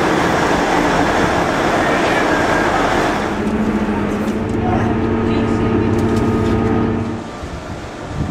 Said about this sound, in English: at the train station.